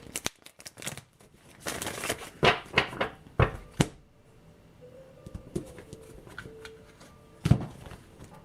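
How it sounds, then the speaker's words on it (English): A deck of tarot cards is shuffled by hand during a reading, producing quiet bursts of crisp riffling and flicking clicks in irregular clusters, close and soft with pauses between. "Let me shuffle one more time."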